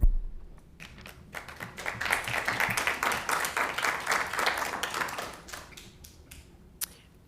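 A city council meeting audience applauds, a dense wash of clapping that swells and holds for a few seconds before tapering off, with a few isolated claps trailing at the end.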